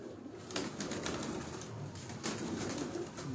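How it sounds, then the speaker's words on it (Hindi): A golden pigeon coos softly in a couple of low, rounded phrases, close by and fairly quiet against faint background noise. "ये वाकई गोल्डन कबूतर है"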